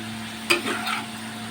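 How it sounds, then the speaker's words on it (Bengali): Potatoes fry in a pan with a sharp stirring scrape followed by a continuous close sizzle; no one speaks. "আলুগুলো যতক্ষণে ভাজা হচ্ছে এর মধ্যে সামান্য নুন দিয়ে দেব।"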